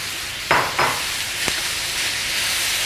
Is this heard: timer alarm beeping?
no